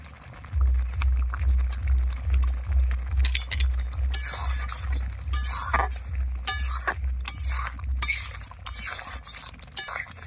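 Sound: spoon stirring lentil dal with sugar in pan

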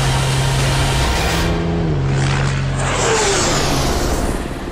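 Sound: world's fastest truck accelerating away

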